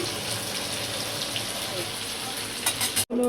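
Chicken chap sizzling and frying in hot oil, a steady loud crackling hiss throughout with faint stirring, briefly cut off near the end.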